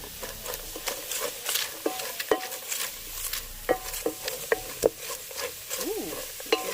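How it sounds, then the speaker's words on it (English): Chopped onions sizzle in a hot pot, a steady close frying hiss broken by sharp scraping stirs and occasional clinks of a utensil against the pot, with no talking. "Ooh, you hear it sizzling."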